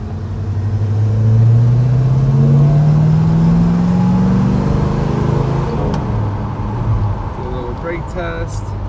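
A 1970 Oldsmobile Cutlass Rallye 350 V8 accelerating on the road, a loud, close engine note rising steadily in pitch through a gear, then settling into a steady cruise with some cabin rumble.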